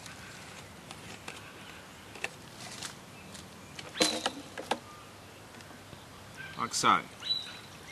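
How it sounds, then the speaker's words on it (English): Fuel is poured into the fuel tank of a 909 Tools PB26, heard as brief splashing trickles in two short bursts between quiet handling noises, with someone speaking briefly. "the fuel is poured into the fuel tank."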